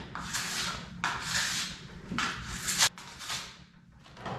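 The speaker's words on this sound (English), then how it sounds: "Now we've scraped most of the wax off my skis" A plastic scraper strips wax from skis in long, steady strokes, producing a loud, continuous rasping scrape that repeats in a few overlapping passes.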